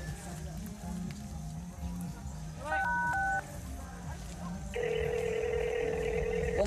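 Brief electronic keypad tones as a number is dialled on a cellphone to call the village captain, followed by a steady, sustained tone, all over background noise and chatter.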